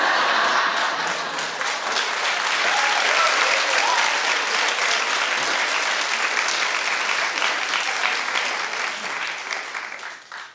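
A television talk-show studio audience claps in a long, dense wave of applause that stays loud and steady, then fades away at the end.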